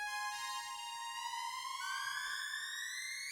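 A Minimoog synth lead holds a bright, buzzy tone rich in overtones, bent upward smoothly with the pitch wheel into a rising sustained wail, quiet and alone.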